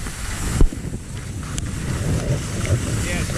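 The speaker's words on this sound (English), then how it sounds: "Oh my god, it's pouring." Heavy rain and hail pour down on a mountain, a dense, steady roar with wind buffeting the microphone and a few sharper impacts.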